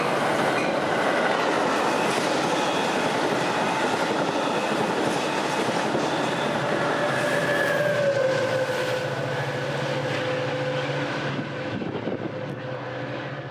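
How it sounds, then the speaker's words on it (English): A Metra commuter express train, number 1236, bound for the Ogilvie Transportation Center in downtown Chicago, arrives with a loud, steady rumble of railcars and a rising tonal whine late in the approach, alone without voices. "Metro Train 1236 would arrive, another booking express train destined for the OTC Transportation Center in downtown"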